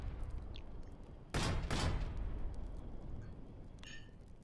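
Battery gunfire in the game Foxhole: a heavy, sharp double blast roars over a rumbling battlefield bed, followed by fainter distant thuds and a brief high electronic tone near the end.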